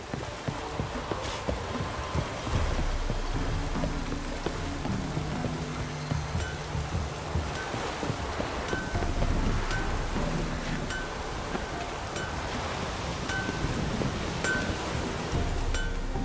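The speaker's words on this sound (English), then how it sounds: "A storm, damn it." Rain falls and thunder rumbles in a storm within The Witcher 3, a dense, continuous wash of noise with low rolling swells and no talking.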